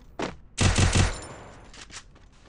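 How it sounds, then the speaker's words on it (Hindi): A UMP submachine gun fires in Free Fire on a snowy ice map: a short, loud burst of rapid shots, then a couple of fainter bursts, with no talking. "भाई मेरे सामने यूएमपी चला दिया"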